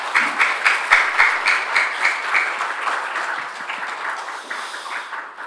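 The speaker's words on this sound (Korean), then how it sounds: "우리 목사님 나오실 때 감사와 사랑을 담아 박수로 격려하겠습니다." A church congregation claps warmly as a pastor comes forward to preach, a dense, even wash of applause from many hands that holds steady for several seconds before slowly thinning.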